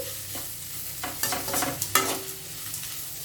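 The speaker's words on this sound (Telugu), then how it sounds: "ఇప్పుడు ఈ ఉల్లిపాయలతో పాటు ఇంకొక నిమిషం ఈ బెండకాయ ముక్కల్ని ఇలా కలుపుకుంటూ ఫ్రై చేసుకోవాలి." Okra pieces and onions stir-fried together in a pan with little oil give a close, steady sizzle, broken up by brisk scraping and tossing sounds as they are mixed, and no talking.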